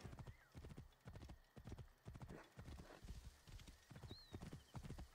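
A horse gallops in Assassin's Creed Origins, its hooves pounding in a quick steady rhythm, close and clear, with a brief whinny over the running.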